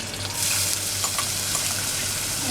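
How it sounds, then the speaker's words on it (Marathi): Onion sautéing in a pan with curry leaves for a tomato vegetable dish, a loud, steady close-up sizzle with faint stirring scrapes throughout and no talk. "कांदा जरा परतून घ्यायचा आपल्याला"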